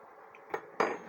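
A spoon beats eggs in a bowl during induction-cooktop cooking, giving two or three quiet clinks of metal against the bowl, close by and otherwise nearly silent.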